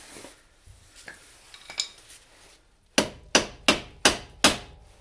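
Five sharp metallic hammer strikes knocking suspension parts back in on a Chevrolet Impala ring out in a steady rhythm, close and loud, after a few quieter clinks and handling noises.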